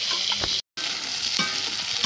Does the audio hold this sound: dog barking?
no